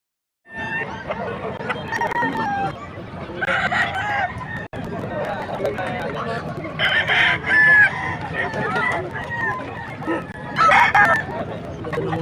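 Fighting roosters at a rooster sale in Bocaue crow loudly again and again, some nearby and others farther off, amid clucking hens, a murmuring crowd and occasional speech.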